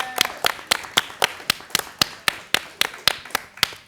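Clapping for Marvin and Maëva as they are welcomed onto a television set, a steady rhythmic run of sharp, close claps at even pace, fairly loud, with no talk over it.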